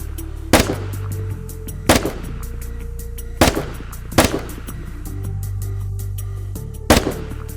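Single gunshots fired at targets in a video game, five sharp, loud cracks spaced one to two seconds apart over a low steady background hum.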